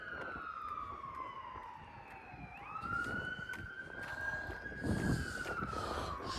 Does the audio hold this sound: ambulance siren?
yes